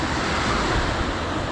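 Rough sea waves churned up after a typhoon roar as a dense, steady wash of surf, loud and close, with wind buffeting the microphone.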